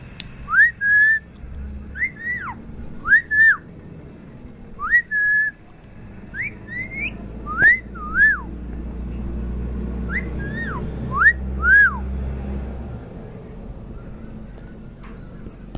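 Repeated rising-and-falling whistles, about a dozen short phrases in a slow steady pattern, whistled close by a person teaching a pet parrot, over a low rumbling background.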